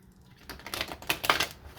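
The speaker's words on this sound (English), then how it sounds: "Alright, one more shuffle." Tarot cards being shuffled by hand, a quick burst of crisp riffling and flapping close by, building to a louder flurry before settling.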